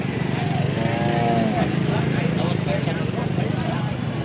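At a busy cow market in Alephata, a cow lets out one low drawn-out moo nearby amid a constant din of crowd chatter and engine-like background noise.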